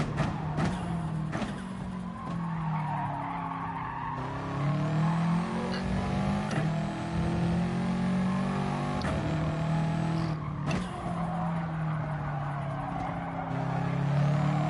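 A car engine revs up and drops repeatedly through a run of gear changes, loud and close throughout, with rising and falling engine tones and short breaks at each shift.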